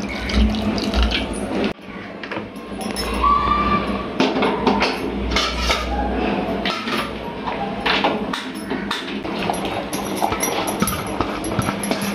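Water pours into a pot of mutton seasoned with rock salt in a home kitchen, giving a loud, steady rush and splash that runs for several seconds with a brief dip partway through.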